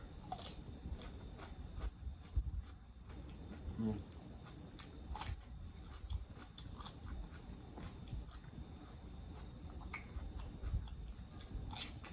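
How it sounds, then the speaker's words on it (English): Crisp, close crunching and biting on cucumber repeats in irregular bites with soft mouth noises and no voices. "You guys hear how crunchy this cucumber?"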